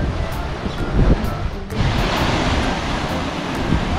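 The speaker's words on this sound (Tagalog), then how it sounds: "Yun nga lang, sobrang lakas ng alon oh." Strong ocean waves break against the rocky shore of Higatangan Island, a steady broadband wash with a surge near the start and gusty wind buffeting the microphone throughout.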